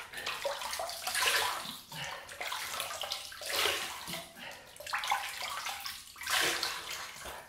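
Tap water runs to wet a shaving brush for a lather with a Fine Marvel double-edge razor, a steady close hiss and splash that swells and eases in waves with no talk.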